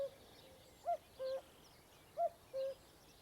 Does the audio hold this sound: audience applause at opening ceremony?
no